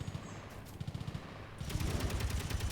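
Bursts of rapid automatic gunfire ring out in the video game Space Engineers, distant at first and then a denser, louder sustained volley of rattling shots with no voices.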